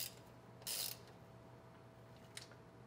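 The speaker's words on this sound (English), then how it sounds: "Now install all of the bolts loosely first, and then you can tighten them down." A ratchet tightens the A/C compressor mounting bolts on a 1980-1996 Ford Bronco or F150. It gives a short, quiet burst of ratcheting, then a faint click later, against a low steady background hum.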